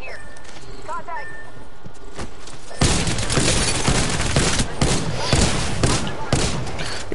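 Mozambique shotgun blasts in Apex Legends, preceded by quieter game ambience and announcer-like voices, then a run of loud, close repeated shots and impacts from about three seconds on, with voices over them.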